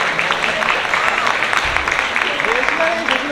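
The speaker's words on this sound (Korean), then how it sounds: "다 같이 뜨거운 박수 부탁드립니다." An audience claps for a newlywed couple at a launch event, steady scattered applause running under a host's amplified voice throughout.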